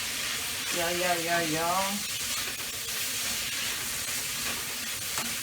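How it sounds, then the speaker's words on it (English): Sausage sizzles and fries in a hot pan for fried rice with black pepper, a steady bright hiss running throughout while a voice briefly speaks over it. "cook until the sausage is cooked all the way through"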